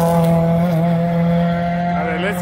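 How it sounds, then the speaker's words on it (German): A Dacia race car engine drones loudly with a steady high-pitched tone, pitch bending as it passes close by during test runs at the Nürburgring. "Hier kommt da, der Dacia."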